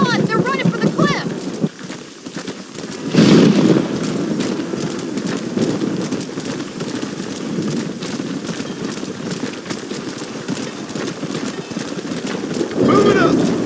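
Horses stampeding in the Red Dead Redemption video game, steady clip-clop of many hooves under a continuous game soundtrack and voices, with occasional louder surges of noise.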